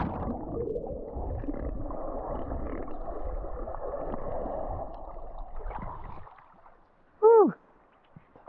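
Swimming in the sea at Moon Bay, a nudist beach in Slovenia, with churning underwater-like splashing and water movement for several seconds, then near quiet with one brief gasp-like burst.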